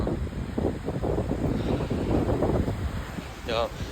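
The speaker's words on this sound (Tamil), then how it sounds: "பாருங்க, காற்று பயங்கரமாக அடிக்குது" Strong wind gusts across a bridge beside a waterfall in Hamilton, Canada, making a steady, close broadband roar on the microphone throughout, with a voice faintly mixed in.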